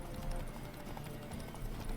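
Horse hooves clatter during a race in The Witcher 3, a dense, steady clip-clop of galloping under a constant wash of noise, faint and continuous throughout.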